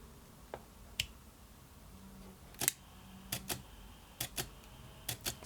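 An Olympus camera shutter fired with an RM-CB2 remote, a series of crisp close mechanical clicks, some single and some in quick pairs, spaced irregularly over a quiet room background.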